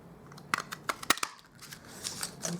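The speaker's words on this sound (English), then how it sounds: "I'm going to cut out the body of the koala, and I'm using the Fox Builder Punch" A Stampin' Up Fox Builder Punch cutting smoky slate cardstock gives a few sharp, close snapping clicks in quick succession, followed by softer rustling of the paper.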